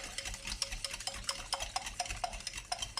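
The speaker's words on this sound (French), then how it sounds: "On remue." A utensil stirs brioche dough for sausage-in-brioche in a bowl, giving quiet, close, rhythmic scraping and clinking strokes in a steady pattern with no talk.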